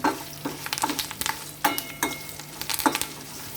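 Spices with asafoetida are tempered in a pan for a Rayalaseema red peanut chutney, giving a steady low sizzle broken by sharp, repeated scrapes and clicks of a spoon stirring against the metal, close and with no voices.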